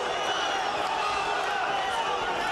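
Large Russian boxing crowd at the Holyfield vs Ibragimov heavyweight fight, a steady roar of chatter and calls filling the arena continuously, with no clear claps or distinct shouts standing out.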